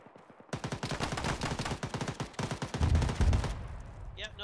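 Sustained automatic gunfire in a ShackTac military sim, with dense rapid bursts close and loud for about three seconds before cutting off, then a few scattered distant shots.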